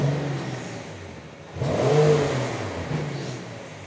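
Car engine revving at a car dealership, a single moderate rise and fall of engine note over a steady idle, fairly close with no talk.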